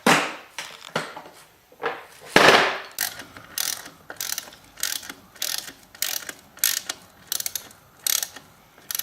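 Socket ratchet working a shock linkage bolt on a Yamaha RM125 motorcycle, giving repeated short clicking bursts with brief pauses between strokes, fairly close and clear, with no talking.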